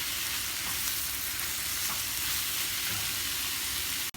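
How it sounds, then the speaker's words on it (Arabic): Minced veal frying in a pan, giving a dense, steady sizzle with faint stirring scrapes underneath, close and continuous, with no voices, ending in a sudden cut. "هلا بحط لحم مفروم، لحم عجل، وبقلبهم مع بعض منيح."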